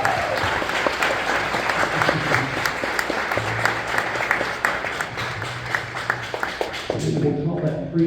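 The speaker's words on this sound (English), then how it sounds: "We'll call that free applause for them." Sustained audience applause for jazz band students at a concert event, a dense, even roar of many hands clapping that continues for about seven seconds, with a low hum and a voice entering near the end.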